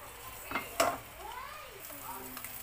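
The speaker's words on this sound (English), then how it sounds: "the egg on the pan, we have to roast this for 1 minute" An egg fries in a frying pan with a faint steady sizzle, close by, broken by a couple of brief utensil clicks against the pan.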